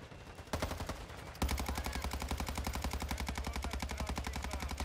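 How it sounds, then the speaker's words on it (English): Gunfire in Warzone 2: an initial short burst, then sustained rapid automatic fire from a close weapon, shots evenly spaced and punchy for several seconds without pause. "I'm shooting down a commander right now."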